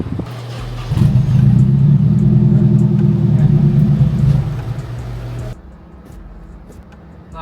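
A Nissan 240SX S14 engine cranks and catches, then revs with a loud, steady rumble for several seconds before dropping back to a lower idle.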